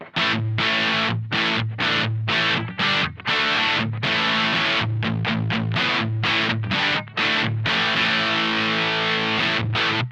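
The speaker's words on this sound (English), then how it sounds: "Here's the distortion settings that I've gotten for this little bit." Electric guitar played through a Supro Drive pedal set for distortion, giving a crunchy, amp-like tone: loud chopped chords and riffs in short bursts with brief gaps, alone and close.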